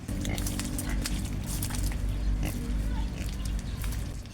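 Several pet pigs grunting and oinking close by on a farm, with repeated short snorts over a constant low background hum and some faint voices mixed in.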